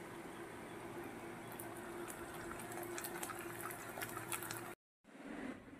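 Papad dropped into hot oil in a home kitchen, giving a steady, loud frying sizzle with bright crackles that is cut off by a brief silence and then resumes.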